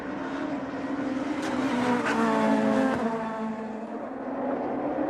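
Super Touring cars from the 1997 STW Cup race around the airport course at Lahr, Germany, their engines a loud, steady wail with shifting harmonic tones and one car passing close before the roar settles back.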